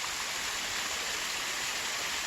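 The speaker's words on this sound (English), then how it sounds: "This beautiful waterfall" A waterfall on a mountain trail in the rain, a dense, constant hiss of falling water, steady and fairly close, with no voices.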